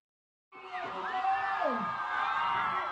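An excited crowd at a concert in Kenya cheers and whoops, the loud, sustained roar starting abruptly and carrying rising shouts.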